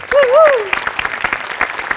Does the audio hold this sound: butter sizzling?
no